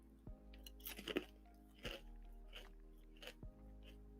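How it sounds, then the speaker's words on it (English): Popcorn being chewed and crunched close to the mouth in a few scattered bursts of crisp biting, separated by quieter pauses over a faint steady hum. "this crunching popcorn though"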